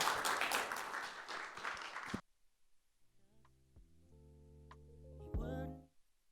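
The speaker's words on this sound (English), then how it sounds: "Can we give a warm round of applause for Mr. Pieter?" A conference audience claps in a loud, dense burst of applause that stops abruptly after about two seconds, followed by quiet, sparse tonal notes.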